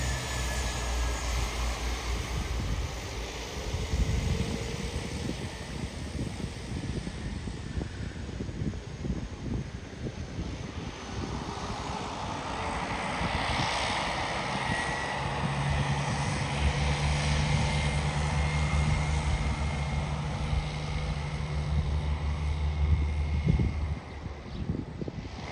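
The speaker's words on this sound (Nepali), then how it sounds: "ल चलिसकेको छ प्लेन है" A propeller airplane starts up and taxis at Jomsom airport in Nepal, its engine a loud, steady drone that swells and shifts in tone as it turns, with no talking.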